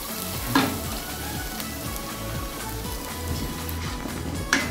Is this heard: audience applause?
no